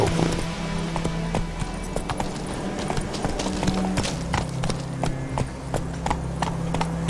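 Horse hooves clip-clopping at a brisk gallop in The Witcher 3 on mobile, a steady rapid drumming of hoofbeats with a low continuous hum beneath and a brief whinny.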